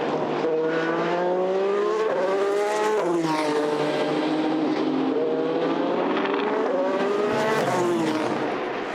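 Toyota endurance prototypes race at full speed, their engines a loud continuous howl with rising and falling pitch as they pass and shift, no voices over it.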